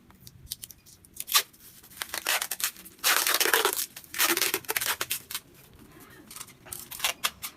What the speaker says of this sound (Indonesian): Kita kunci dulu dengan lakban.